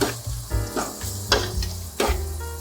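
Curry paste and curried eggs for a Malaysian rendang chicken sizzle loudly in a hot pan, with repeated stirring scrapes and bursts of frying every half second or so, close and with no talk.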